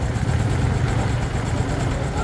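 A 2016 Honda Super Dream motorcycle engine runs close up, giving a steady low rumble with a dense rattling texture that holds without a break throughout.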